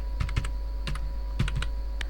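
Keys tapped on a computer keyboard while a password is entered, in short irregular clusters of crisp clicks over a steady low hum, close and alone.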